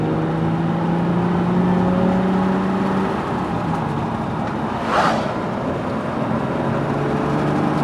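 A Nissan 350Z accelerates up to about 40 mph with a steady, rising engine drone and road roar throughout, and a brief whooshing swell near the end, heard from inside the car.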